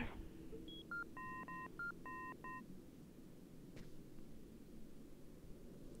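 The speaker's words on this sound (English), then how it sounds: "I've got to call Tyler." A telephone is dialed in the video game Indigo Prophecy, a quick run of about eight clear keypad tones in two bursts over a steady low background hiss, with no talk.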